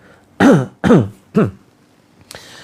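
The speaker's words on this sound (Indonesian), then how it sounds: "Kemudian dibatuk-batukan" Three loud, harsh coughs in quick succession, close by, during a ruqyah healing session, followed by a short faint throat sound.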